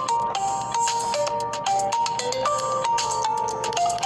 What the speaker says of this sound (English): So this man is calling my phone.